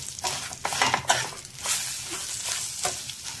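Eggplant pieces fry in a pan, sizzling softly under repeated stirring with scrapes and utensil clinks against the pan, close and fairly quiet.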